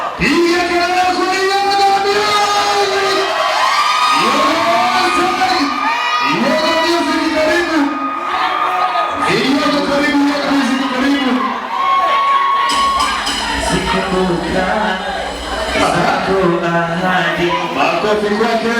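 Loud concert crowd at a night dance event in Itigi cheering, whooping and shouting continuously, with a voice and music-like tones riding over the sustained roar of many people.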